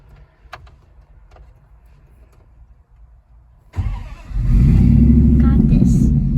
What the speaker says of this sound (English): You're letting off the clutch too fast and not giving it enough gas.